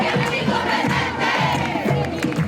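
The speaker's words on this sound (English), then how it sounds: "blasting out chants and riling up the crowd" Loud, dense crowd of Puerto Rico protesters chanting and cheering in unison, a rhythmic swell of many voices shouting together, close and continuous throughout.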